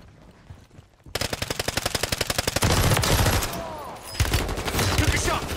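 Rapid automatic gunfire in the video game Warzone, a fast even burst of loud close shots that runs for several seconds, then gives way to heavier, denser firing and scattered impacts.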